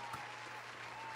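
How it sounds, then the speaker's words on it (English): Hand clapping at a music video reaction: a soft, brief patter of claps, faint and far off, without any voice over it. "I gotta give him the claps."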